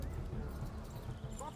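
Horse hooves clip-clop steadily in the Kingdom Come Deliverance video game, a rhythmic trotting beat over a constant game background, with a voice speaking over it.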